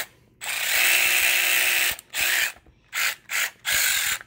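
AC Delco brushless 3/8 cordless ratchet running, a loud close motor whir held for over a second, then several shorter trigger bursts separated by brief silences.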